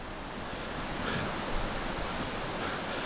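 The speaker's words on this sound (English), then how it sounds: "But look at the wind blow them around." Steady wind rushes and gusts outdoors among bright orange fire azaleas on a spring hillside in the Smokies, heard as a broad, constant whoosh buffeting close to the microphone.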